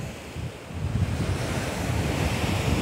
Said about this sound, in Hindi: समुंदर, बहुत लहरें हैं और बहुत ही सुंदर दृश्य